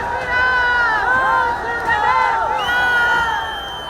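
A large crowd gathered at Baba Bageshwar's darbar, with a dense roar of many voices shouting and chanting together. The sound is loud and continuous, swelling and easing slightly throughout.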